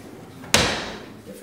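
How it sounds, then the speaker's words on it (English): A single door in a sculpture studio swings open with a sharp knock and a rushing whoosh, then fades over about a second; nearby and fairly loud, with no talking. "Can you open that door again?"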